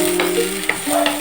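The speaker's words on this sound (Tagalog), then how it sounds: "Gisa po dati ng bawang" Garlic sizzles in hot oil in a pan as a chicken with mushroom dish begins, a close, steady hiss with light stirring clicks.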